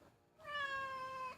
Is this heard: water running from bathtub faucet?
no